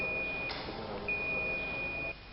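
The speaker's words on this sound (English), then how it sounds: "With that buzzer, you can know that there's continuity through this cable." A multimeter set to continuity sounds a thin, steady electronic beep in two stretches with a short break between them, while testing a cable. The sound is quiet with faint room noise behind it.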